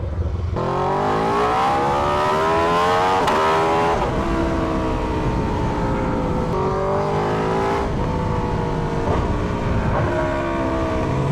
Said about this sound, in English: The downshift!